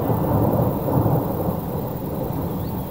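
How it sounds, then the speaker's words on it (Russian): A heavy thunderstorm at night by a lake in the Southern Urals, with dense, steady rain and a deep, continuous rolling rumble of thunder, loud and close throughout with no voices. "Засыпали под шум ливня и раскаты грома."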